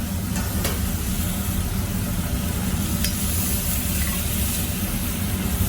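Onions and garlic cooking in a pan, a dense, loud, continuous sizzle with a couple of faint utensil clicks, heard alone.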